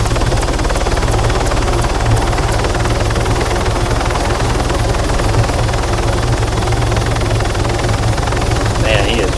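A military helicopter in ARMA 3 flies with a steady, loud rotor thump and turbine whine throughout, continuous and close.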